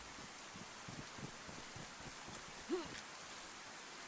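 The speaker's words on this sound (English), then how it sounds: "I am getting right peeved with this rain." Steady rain hisses continuously in the video game DayZ, a broad, even wash of noise at low level with faint scattered patters.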